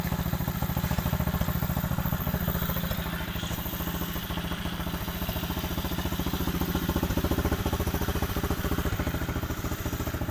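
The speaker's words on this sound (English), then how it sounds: "Idle's good." A cheap, second-hand pit bike engine idles steadily and warm, its fast, even thumping pulse close and loud, with no talk over it.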